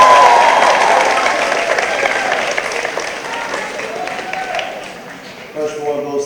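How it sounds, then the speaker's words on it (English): Loud applause from a school crowd at a 2022 Healey School moving-on ceremony, honoring a team that went a perfect 12-0, dense and steady at first, then gradually thinning out, with a voice heard near the end. "Well-deserved applause."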